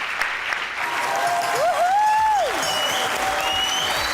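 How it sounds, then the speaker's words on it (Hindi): Studio audience on a Pakistani comedy talk show applauding for Rabia, a close, busy round of clapping with a gliding, whistle-like tone rising and falling partway through. "राबिया के लिए तालियां होनी चाहिए भाई।"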